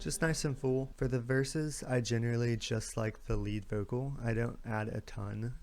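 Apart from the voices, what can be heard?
None of the usual background noises is heard.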